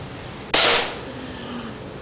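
One sharp crack from a Mario Muli (Nimrod) air rifle fired by a young boy, close and loud against steady outdoor background hiss, followed by a brief fading tail and no talk.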